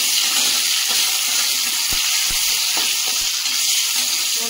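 Whole cumin, cloves, cardamom, cinnamon and chopped onion frying in hot oil in a wok, giving a loud, steady sizzle with faint clicks of stirring.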